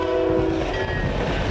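CN freight train led by a GMD locomotive passing, its horn sounding a sustained chord loud at first and fading, with heavy rumble and wheel noise beneath.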